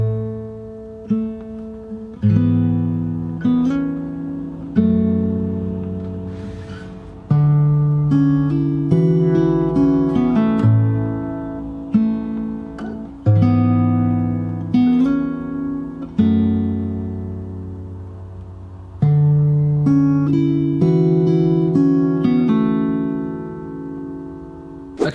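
Fingerstyle acoustic guitar plays a Hamilton song, plucked notes and bass lines ringing out in phrases with short pauses, close and clear with no talking.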